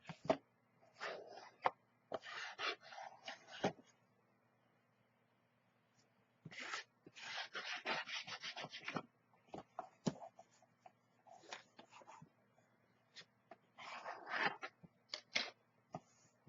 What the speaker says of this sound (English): We'll turn it upside down to burnish it.